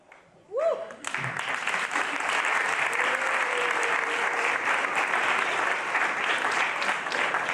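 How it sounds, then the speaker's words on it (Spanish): An audience at a talk on ethics in artificial intelligence bursts into sustained applause after a brief vocal sound, dense clapping that continues steadily to the end. "ahora de nuevo el aplauso a Guillermo Herbetti"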